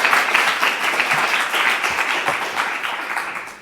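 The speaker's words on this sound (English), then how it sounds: "Please, a round of applause." Audience applause at a tech forum session, a dense steady wash of many hands clapping throughout, fairly loud and even with no pause.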